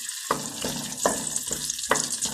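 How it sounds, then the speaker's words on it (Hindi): Ginger garlic paste fries in hot ghee for a black pepper chicken karahi, giving a steady close sizzle. A few soft scraping stirs punctuate it, and no voices are heard. "ये देखिए माशाल्लाह अदरक लहसुन का पेस्ट मैंने डाला, थोड़ा फ्राई हो गया घी में अच्छी तरह।"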